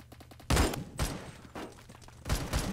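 Dragunov SVDS rifle shots in the Roblox shooter Phantom Forces ring out in a slow series of about four loud cracks. Each crack leaves a short echo between shots.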